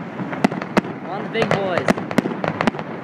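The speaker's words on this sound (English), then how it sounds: "Look at the fire of all those fireworks going off." Fireworks grand finale at a winter fest, with sharp loud bangs and crackling bursts repeating irregularly over a steady rumble, while people talk and cheer close by.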